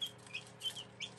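Buff Orpington hens feeding, giving soft scattered clucks and short chirpy calls at close range over a low steady background hum.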